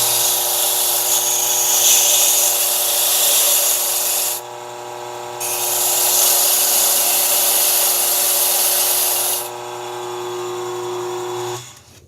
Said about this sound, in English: you still want to run over it with a wire brush or a wheel brush. I'm just going to turn on this wheel real quick.